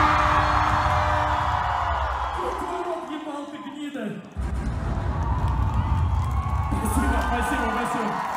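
A crowd shouts and cheers birthday wishes, a loud mass of voices with whoops running almost the whole time, dipping briefly near the middle and then rising again.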